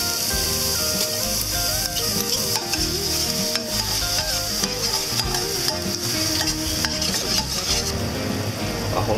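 Minced ginger frying in hot oil with caramelised sugar for sweet and sour mantis shrimp, a loud steady sizzle with stirring scrapes throughout, close up and continuous.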